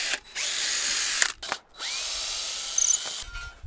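Cordless power drill driving out screws from wooden fence rails at a post, several whirring bursts separated by short pauses, close and clear with no talk.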